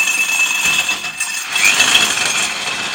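A Dewalt D21570K core diamond drill spins up from a slow start, its high whine and grinding rising steadily and loud at close range.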